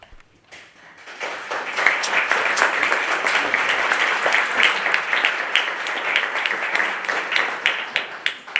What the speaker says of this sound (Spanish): Yo siempre digo que guarden los aplausos para el final